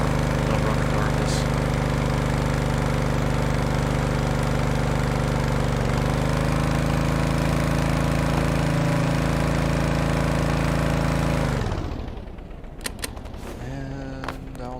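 Modular EFI engine in the Stormworks game running at a steady, loud drone with dense harmonics for about twelve seconds, then cutting out abruptly and leaving faint ticking and clicks.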